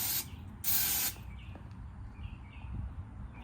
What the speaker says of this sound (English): I also like to spray a little oil in my firebox